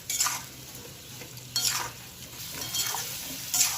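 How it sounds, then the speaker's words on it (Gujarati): Spicy potatoes roast in a pan while being stirred. Soft hissing frying is broken by a few bursts of spoon scraping against the metal, close up, with no voices. "હવે એને આપણે હલાવી દઈશું સરસ રીતે। એને સરસ રીતે શેકાઈ જવા દેવાના છે।"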